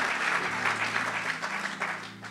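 Church audience applauding and cheering to acclaim God, a steady dense wash of clapping that holds evenly throughout, fairly loud and continuous.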